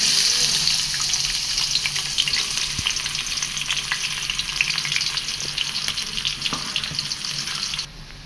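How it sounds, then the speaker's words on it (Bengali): Garlic and onion frying together in hot oil in a karai, a loud, constant close-up sizzle with faint stirring crackles, easing off and going quieter just before the end, no voices. "পেঁয়াজ হালকা নাল নাল করে ভেজে নিয়েছি"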